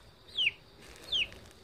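A pet chicken gives two short, fairly close calls about a second apart in a quiet outdoor setting, with no talking over them.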